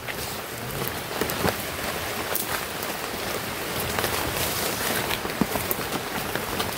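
Rain falls steadily outdoors, a dense hiss of drops pattering on leaves and surfaces with scattered louder splashes and rustles, no voices.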